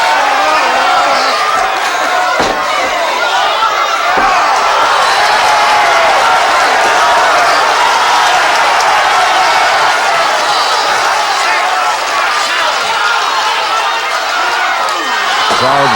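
Wrestling crowd in a UK hall, a loud, continuous roar of shouting and cheering that stays dense and steady throughout, with scattered individual yells rising above it.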